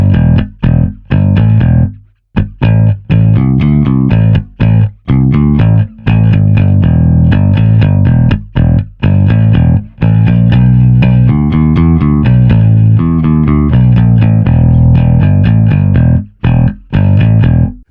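An Eich T900 bass amplifier with its taste control set to 3 o'clock, a bass riff of steady plucked notes with brief gaps, sounding loud, close and driven with a thick, slightly gritty tone.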